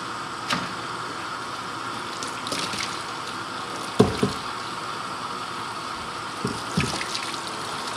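Water runs steadily from a tap while soap is rinsed off a boiled deer skull, a continuous close hiss broken by occasional splashes and knocks against the sink.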